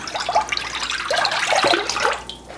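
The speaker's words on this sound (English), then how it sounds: "to this we're going to add 2 quarts of grape juice" Two quarts of grape juice and pulp poured into a large Dutch oven, a steady gurgling liquid splash with bubbly glugs, moderately close and uninterrupted for a couple of seconds.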